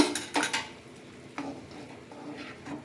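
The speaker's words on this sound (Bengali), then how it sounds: "গ্রেভিটা ফুটে গেছে, আমি এবার কর্নফ্লাওয়ারটা গ্রেভির মধ্যে দিয়ে দিলাম।" A spoon stirs cornflour slurry into boiling gravy in a pan for a jackfruit chilli dish, giving a few clinks against the metal and a soft bubbling simmer, quiet and close.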